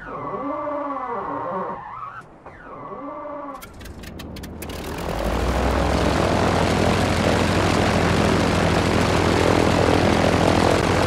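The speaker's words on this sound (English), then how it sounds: "we'll start the engine" A Grumman F4F-4 warplane's propeller engine starts up: a whining starter winds up and falls, a few sharp coughs and pops follow, then the engine catches into a loud, steady, close roar that holds to the end.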